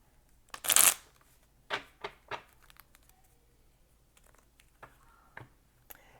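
Tarot cards shuffled close up in a quiet room: one loud riffling burst, then several softer flicks and taps of cards spaced across the following seconds.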